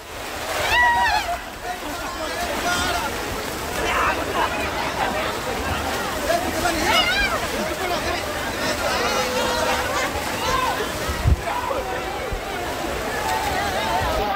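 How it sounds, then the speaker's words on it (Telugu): Floodwater on a flooded university campus after heavy rain sloshing and splashing steadily, a continuous watery churn with voices chattering and exclaiming throughout. "బాబా చూడండి ఎట్లా పోతానే నీళ్ళు"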